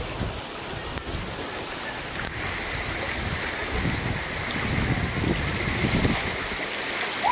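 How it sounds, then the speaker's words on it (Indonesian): Strong floodwater rushes past in a steady, continuous churning roar, with no voices over it. "Ini airnya kencang banget, saya mau nyebrang."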